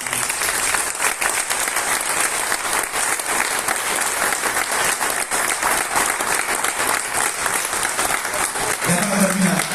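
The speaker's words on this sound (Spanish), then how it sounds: "les ruego que les tributemos un digno y merecido aplauso" An audience at a legislative council ceremony for National Plastic Artist Day gives sustained, loud applause that fills the whole stretch steadily, with crowd murmur mixed in and a brief low hum near the end.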